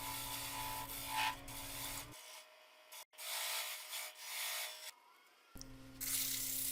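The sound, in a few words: sanding the outside of a segmented wood bowl on a lathe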